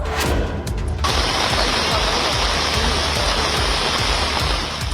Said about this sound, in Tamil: சென்னை மற்றும் அதன் சுற்றுவட்டார பகுதிகளில் நேற்று பரவலாக மழை பெய்தது.